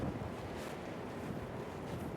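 Steady winter wind by Sydney Harbour buffeting against a microphone outdoors, a continuous low rumbling roar with no voices.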